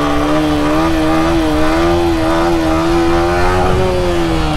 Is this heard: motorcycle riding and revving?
yes